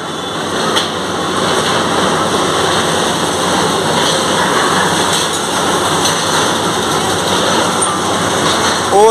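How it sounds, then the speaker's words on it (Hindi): Loud, steady roar of a large crane and heavy machinery at a Delhi Metro construction site by Sadar Bazar market, a continuous broadband drone with faint mechanical whine, close by, with no one speaking. "कितनी बड़ी क्रेन है भाई साहब, कितनी बड़ी मशीन है।"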